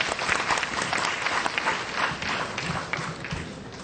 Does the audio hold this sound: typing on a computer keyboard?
no